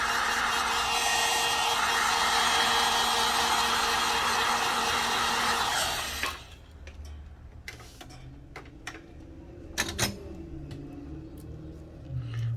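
A hair dryer or heat gun blows steadily and loudly close by while warming a Samsung Galaxy S20 FE during an LCD screen replacement, then switches off, leaving faint handling clicks and taps.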